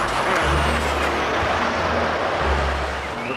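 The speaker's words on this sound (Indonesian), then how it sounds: "Truk towing teman-teman." A tow truck on a road, a heavy engine rumbling steadily with low droning tones and a sharp air hiss near the start, loud and close with traffic noise around.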